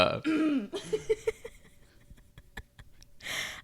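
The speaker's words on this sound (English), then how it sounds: "It's not like a full burp, but it's like air gets stuck in your throat." A partial burp from air caught in the throat, a short gulping croak near the start followed by a few small clicks and a breathy exhale, up close and alone without talk.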